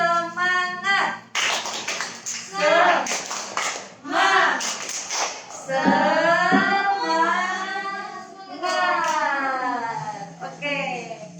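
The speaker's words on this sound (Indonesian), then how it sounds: "Tepuk semangat." Children in an online Sunday-school worship session perform a rhythmic spirit clap, with bursts of patterned clapping alongside loud chanting and sung voices throughout.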